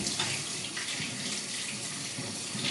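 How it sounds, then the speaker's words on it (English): Vegetables are washed under running tap water, a steady close hiss and splash of the stream continuing throughout without talk. "So let's just give them a quick wash."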